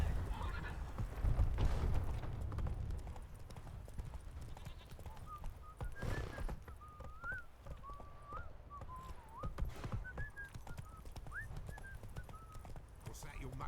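Roach the horse galloping in The Witcher 3, a steady run of hoofbeats close by with a whinny, while someone talks over the hooves.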